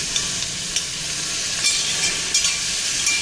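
Onions frying with salt and turmeric in fish oil, a steady soft sizzle with occasional stirring scrapes and crackles, close and moderately quiet, no voices.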